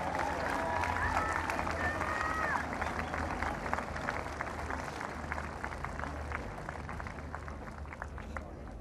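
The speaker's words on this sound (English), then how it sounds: "Let's give them a round of applause." A crowd at a polo match claps. Separate hand claps are audible over a busy background of voices and field noise, and the clapping thins and softens toward the end.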